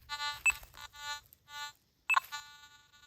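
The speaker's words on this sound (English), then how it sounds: "hold down the pinpoint button and pump the coil until we hear a beep" A Nokta Makro Simplex+ metal detector gives a series of short, quiet electronic beeps and tones in uneven bursts during ground balancing, with a brief gap before a final cluster.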